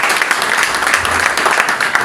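A crowd applauds a wrestling champion crowned at a catch gala, with steady, dense clapping that holds at one level throughout.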